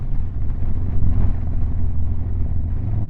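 A Harley-Davidson Sportster fitted with a Hammer Performance kit pulls in fifth gear, giving a steady, deep engine rumble mixed with wind noise that stays at one level for a few seconds.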